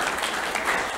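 An audience applauds, a dense, even wash of clapping filling the short moment at moderate volume with no break.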